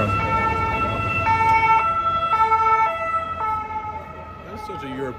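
A two-tone ambulance siren in Barcelona wails back and forth over road noise, fairly close, with faint voices at the end.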